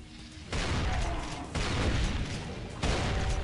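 Loud, dense bursts of explosions and gunfire from the video game Brutal Doom, with sustained booming roar and sudden jumps in intensity.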